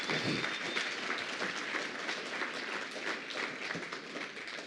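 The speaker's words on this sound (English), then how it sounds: "So a big round of applause for all the helpers and everybody at the conference." Audience at the 2019 DARM virtual reality software conference giving a sustained round of applause, an even wash of many hands clapping for nearly five seconds with no talking.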